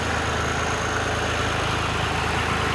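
A John Deere or New Holland tractor engine idles steadily nearby, a constant low rumble with a fine rhythmic throb and no voices.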